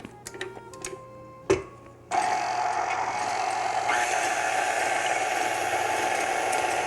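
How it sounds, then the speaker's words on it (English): An electric mixer whisks ingredients in a bowl: a few light clicks and a knock come first, then the motor kicks in with a steady, close whirring hum that runs to the end. "This will go in the bowl of an electric mixer."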